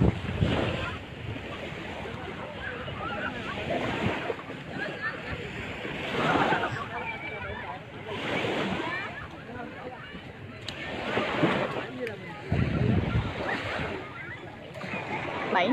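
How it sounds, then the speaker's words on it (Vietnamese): Sea waves at Mui Nai beach in Ha Tien, Vietnam, surge and wash ashore in repeated broad rushes, close and fairly loud, with wind buffeting the microphone and some talk mixed in. "Biển Hà Tiên nha mọi người."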